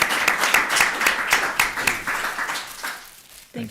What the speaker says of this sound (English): I would just ask the audience to join me in applause in recognition of our board member